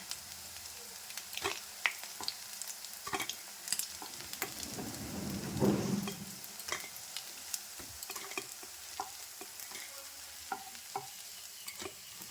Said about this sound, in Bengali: আমি আরেক রাউন্ড ভেজে নিচ্ছি